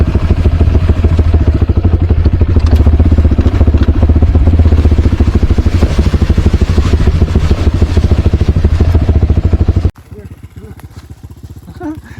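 An enduro motorcycle engine revs hard and steadily for about ten seconds with a rough, buzzing clatter, then cuts to quiet near the end.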